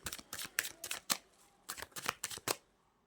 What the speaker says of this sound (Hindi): कार्ड्स मैं शफल कर लेती हूँ एंड फिर उसके बाद हम रीडिंग शुरू करेंगे